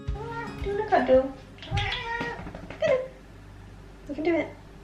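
A cat perched on someone's shoulder meows several times in a kitchen during a herringbone tiling job, four close, drawn-out wavering meows separated by short pauses.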